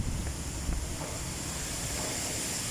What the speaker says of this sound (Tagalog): Ayan, o, napakalakas ng hangin. Yan ang bugso niya.